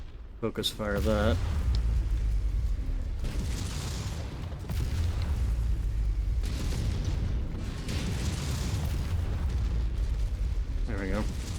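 Heavy explosions destroying a mech in MechWarrior 5, with deep rumbling booms rolling continuously and swelling in bursts, while radio-style voices speak briefly near the start and end.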